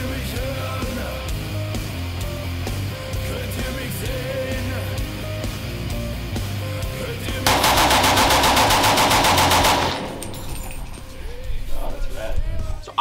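A German StG-44 assault rifle from World War II fires one loud, sustained automatic burst of rapid shots lasting about two and a half seconds, standing out sharply from quieter background sound before and after.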